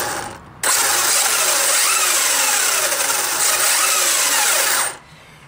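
A T2M Pirate 8.6e electric RC car accelerates with a loud, sustained high-pitched motor whine and gear rattle, rising and falling slightly over about four seconds before abruptly stopping.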